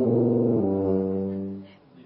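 A human voice imitates loud snoring with one drawn-out, buzzing, droning rasp that is close and strong, then trails off and fades after about a second and a half.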